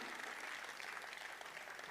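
Steady applause from a comedy festival audience, dense and continuous, filling the whole moment with no voices over it.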